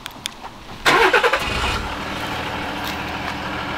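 A 2019 Ford F-150 Platinum Powerstroke diesel truck starts at the push of a button: a few soft clicks, then a loud cranking catch that settles into a steady, close idle.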